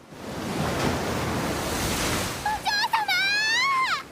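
Ocean waves surge onto a beach in an anime, a loud rushing wash of surf, joined toward the end by a high voice crying out over the water.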